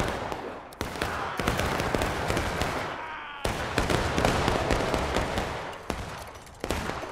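Musket volleys crackle in the War of Rights video game, a dense rolling fusillade of overlapping shots. Sharp individual cracks punctuate the continuous gunfire throughout.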